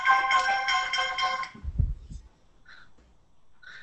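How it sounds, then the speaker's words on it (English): A cell phone ringtone goes off during a live photography talk show, a bright melodic chime pattern repeating for about a second and a half before cutting off, followed by faint thumps and small clicks. "forgot to silence the cell phone"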